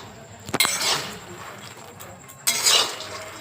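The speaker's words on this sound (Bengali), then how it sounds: "বাটার দিয়ে পুরোটা মিশিয়ে নিচ্ছে মা, দেখো এখানে" Butter stirred through dry-roasted crunchy makhana in a pan at home, heard as two bursts of clinking, scraping clatter a couple of seconds apart with a soft background hiss between.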